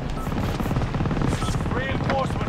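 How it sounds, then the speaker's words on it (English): In a shooter video game, a helicopter's rotor throbs steadily for a couple of seconds amid game noise, with faint whistling tones layered over the thrum. "One's a helicopter."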